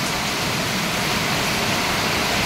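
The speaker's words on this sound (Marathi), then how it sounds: "धुवाधार पाऊस पडतो." Heavy monsoon rain pours down in a dense, unbroken roar of loud, even hiss that carries on without pause, with no voices.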